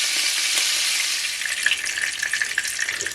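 Sausages frying in a pan, a steady dense sizzle with crackling pops spattering through it, close and fairly loud throughout with no voices.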